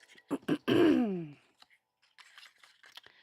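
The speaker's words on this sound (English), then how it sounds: "Excuse my cough." A couple of short, sharp coughs followed by a rough throat-clearing rasp, close and fairly quiet, then faint rustling.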